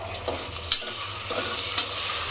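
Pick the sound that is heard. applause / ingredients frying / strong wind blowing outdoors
ingredients frying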